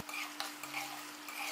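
A spoon scrapes and clinks a few times as chicken is stirred in a handi over a high flame. A soft sizzle runs underneath, and it is quiet and close with no talking.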